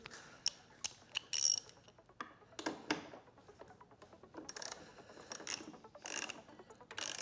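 Ratchet wrench loosening 8mm screws on a Honda Goldwing motorcycle, giving quick clicking pawl runs and short bursts of turning, close but quiet, with small metallic taps between strokes.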